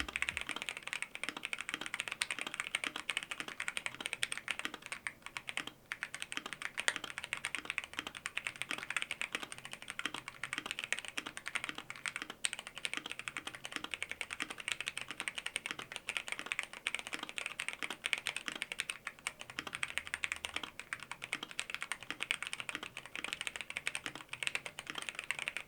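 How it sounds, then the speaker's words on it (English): Steady, quiet clacking of typing on a Rakk Tala mechanical keyboard with modded stabilizers, a continuous dense patter of keystrokes throughout with no voices. "And here's the modded typing test of the Rakk Tala."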